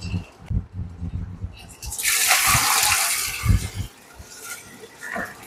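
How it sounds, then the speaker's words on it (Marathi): Mud crabs are swished and rinsed in water, a rush of splashing and sloshing in the middle, with knocks and handling noises before and after and a voice speaking nearby. "ते जरासं पाण्यामध्ये धुवायला पाहिजे, त्यांना माती असते."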